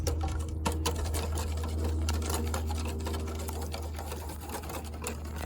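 A motorized mixer whirs steadily with a low hum and rattling clicks as milk is blended with nine egg yolks for a dessert parfait custard, continuous and close with no talk.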